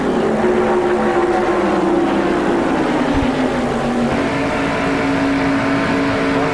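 A stock car engine in the 1994 Winston Select 500 NASCAR race fires and pulls away down pit road, a loud sustained roar with a gliding pitch over a busy track background, without speech.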